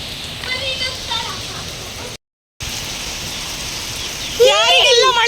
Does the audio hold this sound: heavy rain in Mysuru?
yes